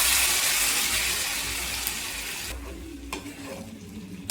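Garlic and onion fry loudly in a pan, a dense hiss that drops sharply as tomato puree goes in, followed by a quieter bubbling sizzle with a few soft stirring knocks.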